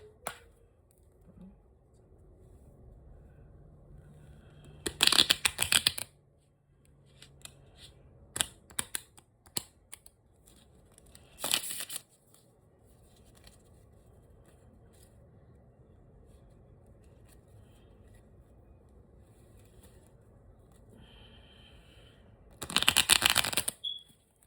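A brand-new tarot deck is shuffled in three loud, dense riffling bursts, each lasting about a second, with quieter handling of the cards and faint background noise in between.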